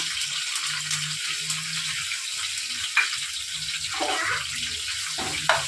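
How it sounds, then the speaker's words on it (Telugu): Green chilies and ginger paste hit very hot oil, giving a continuous loud crackling sizzle with brief spatters and occasional stirring scrapes, close and steady throughout. "ఆయిల్ బాగా హీట్ అయింది కదా వెంటనే ఇదైపోతున్నాయి అన్నమాట వేసినవి వేగిపోతున్నాయి"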